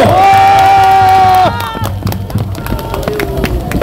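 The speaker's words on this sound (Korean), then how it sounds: "이분들을 위해서 박수 한번 보내주십시오." Crowd at a South Korean political rally bursts into applause and cheers after a sustained voice at the start, with dense, loud clapping and shouts filling the rest of the stretch.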